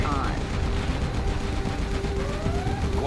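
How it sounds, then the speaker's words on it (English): Quad cannon fire in Command & Conquer Generals Zero Hour: a steady, dense rattle of rapid automatic shots running the whole stretch, loud and close amid game battle noise. "Quad cannon."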